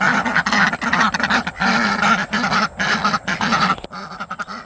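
A flock of ducks quacks loudly and rapidly nearby, overlapping calls forming a noisy, continuous chatter.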